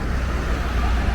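Steady road traffic on Monument Road, a continuous low rumble of passing cars and heavier vehicles, fairly loud and unbroken, with faint voices in the background.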